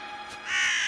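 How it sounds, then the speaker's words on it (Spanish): A crow in the Star vs. the Forces of Evil cartoon gives a single harsh, rising caw, close and fairly loud, lasting under a second. "No parece un cuervo cualquiera."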